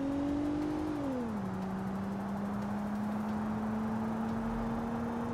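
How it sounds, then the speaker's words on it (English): A Honda Odyssey's front-wheel-drive engine drones steadily in a driving simulator game, its pitch sliding lower after a second and then holding an even, continuous hum with no voices. "I'm driving the Honda Odyssey."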